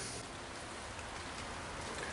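Steady rain falling outdoors during a brake rotor axe-making job, a constant even hiss with no breaks or other sounds over it.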